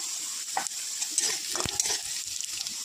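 Whole cumin frying in hot oil in a pan as it is stirred, a bright close sizzle with a few scraping strokes of the spoon over about three seconds, no voices.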